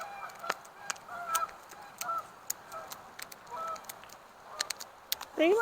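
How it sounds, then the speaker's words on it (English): A flock of geese honks repeatedly at a lakeside campsite, scattered calls near and farther off with sharp clicks and rustles between them and one loud honk close by at the end. "look at all the geese."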